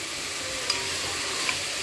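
Chopped vegetables with coriander and mint sauté in a pan, a steady frying hiss broken by a couple of light spoon taps against the pan.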